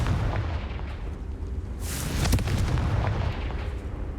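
Confringo blasting spell from the Hogwarts Legacy video game: a dense, rumbling explosive burst with a bright crackling flare near the middle, over a continuous loud game soundscape, no voices.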